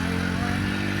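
A motorbike engine labours up a steep, dusty hill road to a temple, a close, steady droning hum over one brief moment with no talk.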